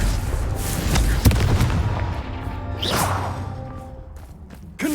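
In Hogwarts Legacy, a Confringo fire-blast spell goes off with a heavy boom near the start, then a whooshing burst and a trailing rumble, followed by a further short impact at the end.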